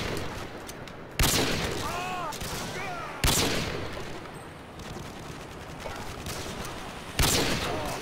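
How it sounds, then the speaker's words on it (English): Gunfire from the video game Call of Duty: Modern Warfare 2 during trickshotting on an oil rig map, with three loud sharp reports spaced a couple of seconds apart over steady game background noise. "No way I hit this shot."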